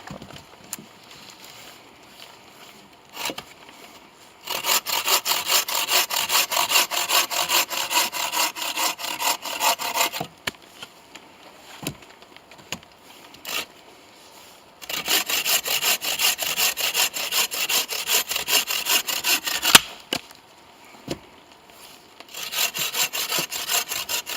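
Slow, full-length strokes of a hand saw cutting through wood at a rainy bivouac come in two long sawing bursts, close and rasping, separated by quieter pauses.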